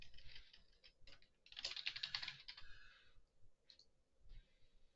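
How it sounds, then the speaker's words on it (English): Manual typing on a computer keyboard in a forensics work session, a close run of quick clicky keystrokes with a dense burst in the middle and scattered taps after, with no voices. "I just like manual typing a lot with the tuck tuck tuck tuck from the keyboard"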